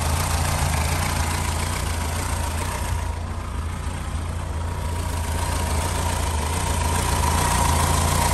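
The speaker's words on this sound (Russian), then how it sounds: "Мотор чистенький, работает отлично." A VAZ 2107 car engine idles steadily and close by under the hood, a constant low hum with no voices throughout.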